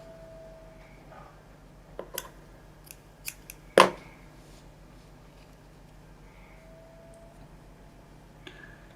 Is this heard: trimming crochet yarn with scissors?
yes